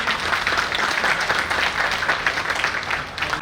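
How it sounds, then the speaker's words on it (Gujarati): An audience at a Sidpara family community get-together in Rajkot, Gujarat, applauds a doctor being welcomed. The dense clapping is steady and fairly loud throughout and tapers slightly at the end. "આપણે ડોક્ટર સાહેબને જોરદાર તાળીઓથી વધાવીએ."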